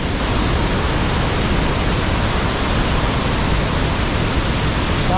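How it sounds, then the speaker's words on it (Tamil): Hogenakkal's Foggy Falls roar as a loud, unbroken wash of falling water, dense and steady from start to finish with no voices. "இங்கே தெரியுது பார்த்தீங்களா, இதுதான் ஃபாகி ஃபால்ஸ்."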